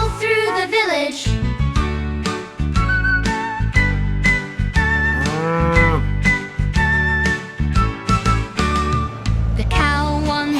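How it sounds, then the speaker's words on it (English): A cow's moo sounds within a children's nursery rhyme about farm animals on a bus, set amid bright, busy music with repeated melodic notes and a steady beat. "The cow on the bus says moo, moo, moo"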